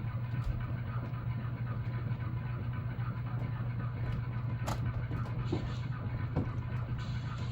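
A model railroad D&H engine shoves inbound cars down the engine lead, a steady low motor hum running throughout with a few light clicks and clanks from the rolling cars.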